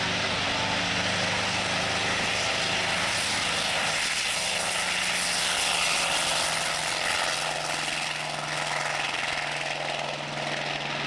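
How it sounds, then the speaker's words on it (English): A Douglas AD-4 Skyraider propeller aircraft flies past at an airshow on a beach, its steady, loud engine drone filling the air throughout with a broad, continuous roar. "Right now, one of the finest designs of Ed Heinemann, the Douglas AD-4 Sky Raider"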